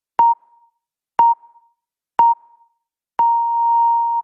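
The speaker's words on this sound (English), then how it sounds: "I'm gonna start my timer." A timer beeps three short identical tones about a second apart, then sounds one long sustained beep, clean and alone against silence.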